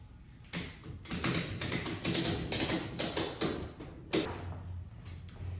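Ratchet straps are cranked tight on a rooftop tent, giving a run of sharp, close clicking bursts in an irregular rhythm, with short pauses and a low hum underneath.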